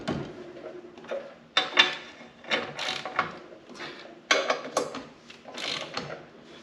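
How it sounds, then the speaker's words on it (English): A torque wrench clicks and ratchets while tightening bolts on a step fitted to a John Deere 1025R compact tractor, with repeated close, sharp ratcheting bursts and short pauses between them. "so we'll got this set to 223 foot-pounds, and we'll torque these"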